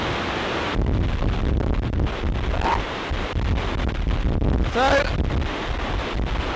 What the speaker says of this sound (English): But the weather is a bit blowy.